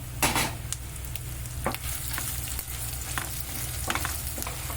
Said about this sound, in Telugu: ఇవి మంచిగా వేయించుకోవాలి